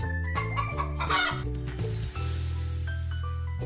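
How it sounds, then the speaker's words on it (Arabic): Chickens cluck in a children's educational animal-names game, a burst of close, choppy clucks and squawks early on, set over a repeating cheerful music backing. "دجاج،"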